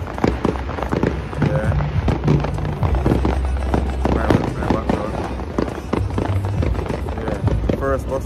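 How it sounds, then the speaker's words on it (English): Repeated fireworks bursting and crackling at a moderate distance, irregular bangs under people talking nearby. "fireworks in the background"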